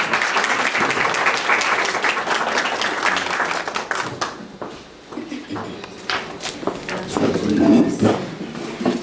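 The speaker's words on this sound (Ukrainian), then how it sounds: "Ваши аплодисменты, просим." Audience applause at an anniversary celebration for a Udmurt cultural centre's ensemble, brisk clapping that thins out midway, with a voice speaking over it before the clapping swells again.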